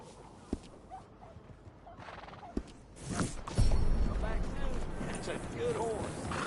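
Horse whinnies and neighs in Red Dead Redemption II, with soft clip-clop of hooves, brief sharp clicks early on, then a louder stretch of game ambience and movement building from the middle onward.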